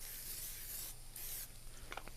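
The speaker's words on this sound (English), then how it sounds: "let's get some nonstick in here." Nonstick cooking spray hisses onto a Blackstone griddle in two bursts, close and steady, followed by a few soft clicks and rattles as the can is handled.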